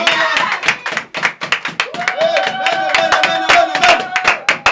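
Congregation clapping in rhythm at a church worship service, steady repeated hand claps mixed with singing and voices throughout.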